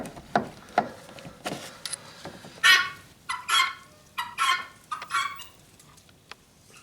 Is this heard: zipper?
no